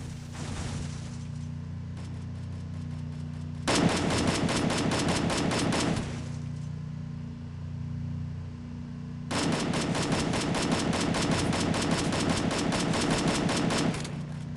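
Rapid automatic gunfire in the Free Fire mobile shooter game, two long sustained bursts of sharp, loud repeated shots separated by a quieter stretch of lighter, sparser firing, with no voices over it.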